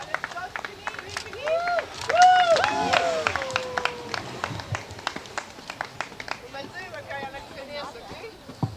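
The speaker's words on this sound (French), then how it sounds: "Allez, on les applaudit très fort." Spectators clapping for runners crossing the finish line of an adult 10 km race, scattered applause outdoors under a loud announcer's voice, with whistles and cheers rising and then settling.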